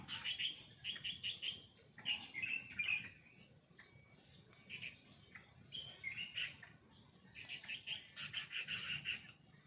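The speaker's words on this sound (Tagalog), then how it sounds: "daming ibon" A dense flock of birds chirps in bursts at a Taiwan bike lane, high twittering calls coming in waves over a low steady outdoor rumble, fairly distant and soft.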